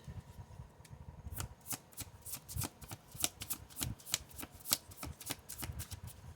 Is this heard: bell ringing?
no